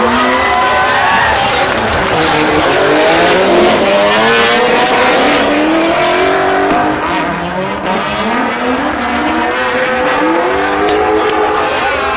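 Drift cars battling in tandem, Gaz Whiter against Chris Forsberg, in a 2008 US event: loud sustained engine roar with shifting, climbing revs and tire noise, near and continuous throughout.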